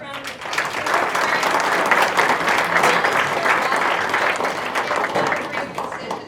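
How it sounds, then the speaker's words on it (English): A breakfast-event audience claps for the board of directors, a loud, close, steady round of applause that swells and holds for several seconds before tapering. "Give them a round of applause."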